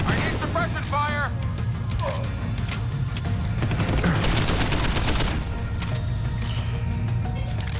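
Sustained suppressing gunfire in the stealth action game Deus Ex: Human Revolution, a dense steady barrage of rapid shots with scattered impacts and mechanical clatter, voices speaking over it.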